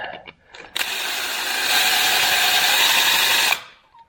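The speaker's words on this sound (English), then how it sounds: "I can drill a hole right there." Power drill boring a hole into the metal of a power buggy, starting abruptly and grinding steadily at close range for nearly three seconds before cutting off.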